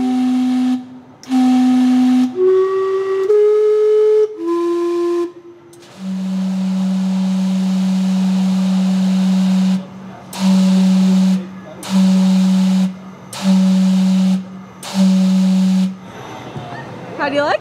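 The Gastown steam clock in Vancouver whistles its hourly tune, a run of loud stepped steam-whistle notes followed by a long low blast and five short repeated toots, each with a breathy hiss.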